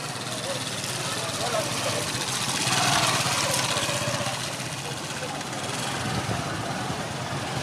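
A motorbike engine runs steadily on a rough road journey, a continuous mid-pitched drone with a slight swell in the middle, close and fairly loud throughout.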